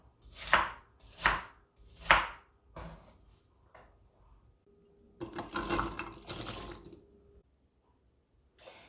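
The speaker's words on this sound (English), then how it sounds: "Next, peel and slice 4 cups of Granny Smith apples." Knife chops through Granny Smith apples on a board, three firm strokes and a few lighter ones, then a short rush of running water.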